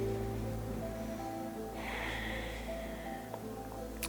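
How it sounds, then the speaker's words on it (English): One long, soft, breathy exhale during a yoga session, quiet against a low steady hum, with no talk. "inhale and try to expand our lungs, and then actively exhale to get all of that air out"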